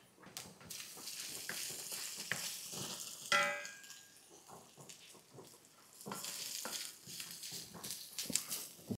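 Carrots sautéing in a low-oil pan with turmeric, red chili powder and asafoetida, a steady sizzle broken by rhythmic spatula scrapes and taps, plus one sharper metallic clink; no talking.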